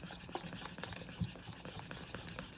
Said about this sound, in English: Once I've whisked it enough and kind of gotten rid of most of the lumps